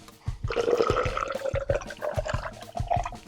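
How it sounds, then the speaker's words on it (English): Water pours into a glass or jug for a lemon and fresh mint lemonade, a close, gurgling splash with small knocks and a rising fill tone over about three seconds, no voices. "Now we'll put water."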